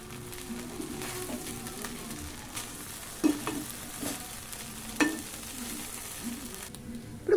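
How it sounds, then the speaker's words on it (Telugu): Bread masala frying in a pan with sauce as a spoon stirs it, a steady moderate sizzle broken by a few sharp scrapes and clinks against the pan. "ఇప్పుడు దీన్ని ఫ్రై చేసుకుందాం"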